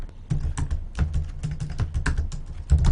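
Rapid clicking keystrokes on a computer keyboard, a steady irregular patter of close, crisp taps lasting throughout with no talking.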